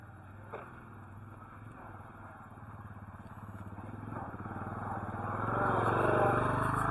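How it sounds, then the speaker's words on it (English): A motorbike rides along a rural Zambian road, its engine hum steady and moderate, then growing louder and nearer toward the end. "You see, he's using a motorbike."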